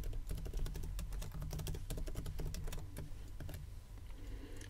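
Quick, close keystrokes on a computer keyboard as a name is typed in, an irregular run of light clicks that trails off near the end, with no talking.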